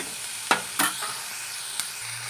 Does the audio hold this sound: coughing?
no